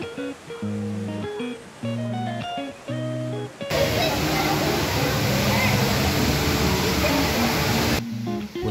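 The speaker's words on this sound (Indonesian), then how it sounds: "Anda akan disuguhi pemandangan air terjun buatan yang cukup tinggi." Tall artificial waterfall inside the Cloud Forest dome in Singapore, a loud, continuous rushing roar of falling water that cuts in after a stretch of soft background music and holds steady for several seconds.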